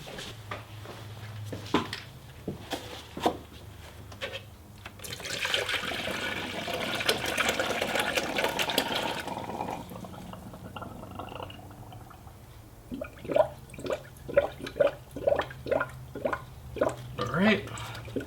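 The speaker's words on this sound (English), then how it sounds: "just keep adding coolant until coolant starts pouring out of there" Coolant is poured into the cooling system of a 1993 Mazda RX-7 FD3S, a stretch of gurgling liquid flow between bits of nearby talk and a few clicks.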